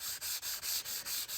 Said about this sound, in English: The engraving is into the brass, so I'm sanding off the top layer.